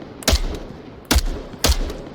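MK rifle fired on single shot in the VR shooter Onward: three sharp, loud gunshots spaced unevenly, each a punchy crack with a brief tail, and nothing else in between.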